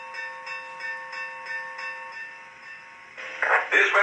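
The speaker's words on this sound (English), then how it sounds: "Here's the bell." A Lionel model train bell rings in evenly spaced clangs at a steady rhythm, followed by a burst of hissing air at the end; no talk.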